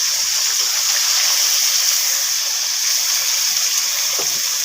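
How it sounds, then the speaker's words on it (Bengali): Chalta and mango pieces frying in spiced oil for pickle, a steady loud hiss of sizzling that fills the whole stretch without pause and with no talk. "এখন আমি চালতে আর আম এগুলো দিয়ে ভেজে নিচ্ছি।"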